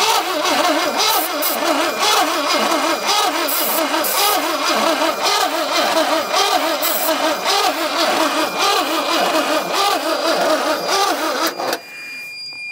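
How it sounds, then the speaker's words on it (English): A squarebody truck engine cranks steadily and loudly on its starter with a little fuel and ether sprayed in, a continuous rhythmic churning that never catches, then cuts off near the end. "I'm gonna hold the engine start button down and then hit it with a little bit of fuel, a little bit of ether"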